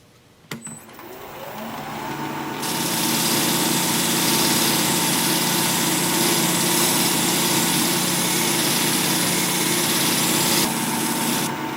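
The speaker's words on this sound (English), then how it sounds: "this is a fine wire wheel that I'm using" A fine wire wheel spinning on a lathe buffs an old knife blade with can and bottle openers, starting with a rising whine and then holding a loud, steady, harsh hiss and hum.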